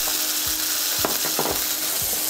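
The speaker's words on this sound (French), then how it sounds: "et là, on laisse cuire gentiment. Pendant que les tourne-dos sont en cuisson" Tournedos steaks fry in a hot pan with a dense, steady sizzle that fills the whole stretch, close and loud, with a few soft knocks of utensils beneath and no talking.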